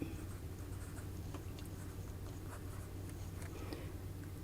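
A Leonardo Momento Zero Grande Pura fountain pen with a steel nib scratches steadily across paper, a soft continuous close-up writing texture with small irregular strokes and no talk.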